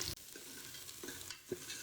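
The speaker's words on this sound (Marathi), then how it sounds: "थोडासा तांबूस होईपर्यंत कांदा भाजून घ्यायचा" Sliced onion sizzles in hot oil with bay leaf for a tempering, stirred with a few soft scraping strokes of a spoon against the pan; quiet, steady frying with no talk.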